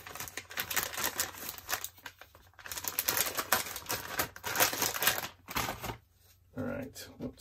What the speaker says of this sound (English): Excuse the crinkly noises.